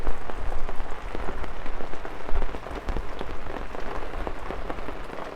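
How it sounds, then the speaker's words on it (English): Heavy rain patters densely and continuously on a taut tent close overhead, with irregular louder drops pelting through the steady drumming. "it starts raining again"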